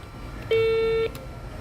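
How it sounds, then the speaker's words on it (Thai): A Reach KX-T3095CID landline telephone sounds one ringtone tone, a single steady electronic beep lasting about half a second, clear and close in a quiet room. "เดี๋ยวต่อไปผมจะพาไปดูในส่วนของ เสียงเรียกเข้านะครับ จะมีทั้งหมด 16 เสียงนะครับ"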